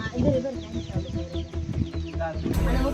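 Chickens, including black-feathered hens, clucking close by in a busy, overlapping run of short calls, with a bit of background noise.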